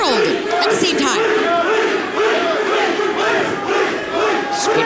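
A split wrestling crowd at a three-way championship match roars with loud, sustained shouting, chanting and cheering, many voices overlapping throughout.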